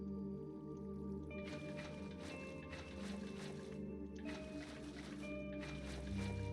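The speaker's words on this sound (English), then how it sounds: "let's fill this thing with water" Water flows and gurgles in the Minecraft video game, filling a custom build, with a continuous trickling wash that swells in waves over a layered game soundtrack.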